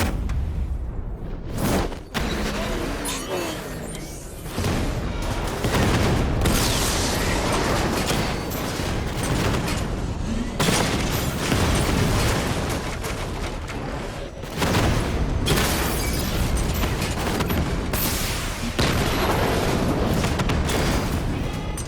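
A Batmobile's 60mm cannon fires in Batman Arkham Knight, with loud repeated booming blasts and explosions in dense, overlapping bursts, broken by brief lulls.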